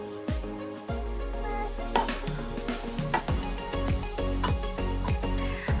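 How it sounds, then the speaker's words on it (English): Butter melts and sizzles in a soup pot before the onion, shallot, celery and carrots go in, making a loud, steady close frying hiss with occasional clanks and stirring. "we're gonna melt the butter to saute the mirepoix in"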